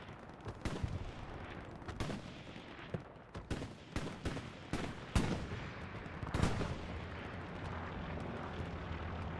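Rocket and weapon fire in Hell Let Loose, with a string of loud, sharp blasts and shots at irregular intervals over a rumbling battlefield background, some near and some more distant.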